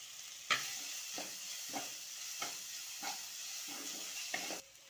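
Chopped onion and crushed ginger and garlic hit hot oil with cumin seeds for a bottle gourd paneer masala, giving a steady close sizzle broken by about six scraping stirs of the spoon.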